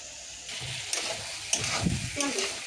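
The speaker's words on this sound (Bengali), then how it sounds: "এখন মাছটা বাজমু, তারপরে বানামু।" Rohu fish pieces frying in hot oil on a tawa give off a steady close sizzle, with a few sharper crackles and clinks.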